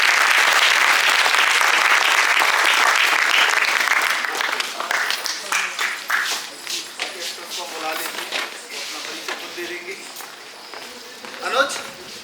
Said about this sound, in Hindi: उनके लिए भी तालियां बनती हैं।